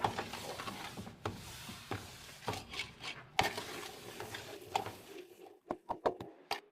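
Thick corn and wheat flour halva mixture being stirred and worked in a pot, with irregular scraping and knocking strokes, then a few sharp isolated taps near the end.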